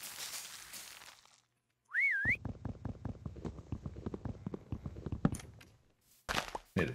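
A Minecraft luggage mod whistle that calls the luggage to the player rings out once as a short rising-and-falling tone, followed by a run of steady rhythmic footstep-like thumps, with no talk.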